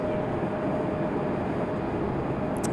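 An Alaska Airlines airliner taxis at Raleigh-Durham airport, producing a steady broadband rumbling roar that holds at an even, moderate level and sounds somewhat distant, with no talk over it.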